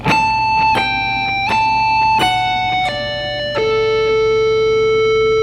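An electric guitar picks a six-note rock lick with alternate picking, each note struck cleanly and ringing over the next in a stepwise descending line. The notes are evenly spaced over a low background hum, with no talking.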